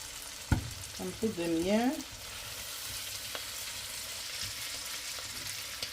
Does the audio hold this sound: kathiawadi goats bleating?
no